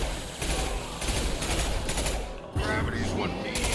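Rapid bursts of gunfire from the video game Mass Effect 2 repeat in quick succession, with several shots fired in a row over busy in-game background sound.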